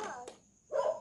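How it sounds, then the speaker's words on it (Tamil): A toy music box plays a short recorded dog bark sound, two quick electronic yips separated by a pause, close and clear with no talk over it. "டாக் மியூசிக்லாம் இருக்குது."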